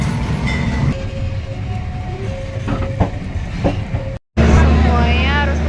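A train rumbles at a station in Bandung with a loud steady rolling roar, metallic screeches and clattering, a short horn-like tone, and voices mixed in nearby.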